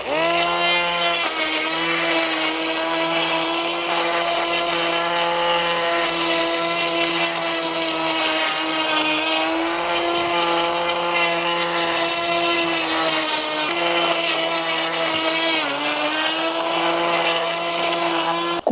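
A steady, loud whirring drone from a STARK GT 21 cordless trimmer cutting burdock and thistle in a garden, running continuously with slight pitch dips as it bites into the weeds.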